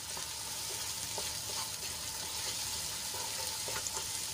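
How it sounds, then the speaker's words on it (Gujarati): Onions sautéing in a covered pan with a little salt, a soft continuous sizzle heard close and fairly quiet, steady throughout with faint crackles and no voices. "તો ડુંગળીને આપણે ઢાંકીને સંતળાવા દઈશું"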